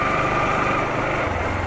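Bajaj Pulsar RS 200 motorcycle exhaust giving a steady, close, loud engine drone with a rough low burble and no break over the short stretch.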